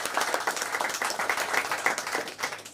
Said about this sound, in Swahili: tupige makofi kwa hiyo